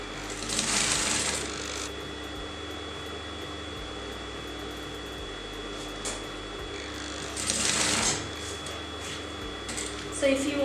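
A sewing machine stitches a kurti neckline onto the bodice in two short bursts of rapid whirring, separated by a long quiet stretch, while a person talks.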